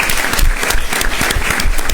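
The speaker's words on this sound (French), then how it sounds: "Merci de vous applaudir." A studio audience of university students claps on a live midday television program, loud, close and continuous, with individual hand claps standing out in the dense applause.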